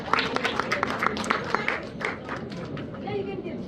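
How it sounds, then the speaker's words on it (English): Rhythmic hand clapping from a church audience at a Christmas celebration, a steady run of sharp claps that fades after a couple of seconds, with voices and chatter mixed in. "Let's clap our hands."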